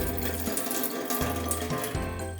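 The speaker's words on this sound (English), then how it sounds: "rinse until the water runs clear" Jasmine rice is rinsed with running water in a rice cooker pot, a close splashing and trickling with rhythmic swishes as the grains are stirred, heard alone.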